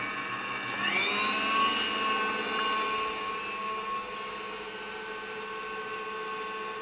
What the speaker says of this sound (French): Donc là, on va faire du beurre en loupant sa crème fouettée, sa crème chantilly.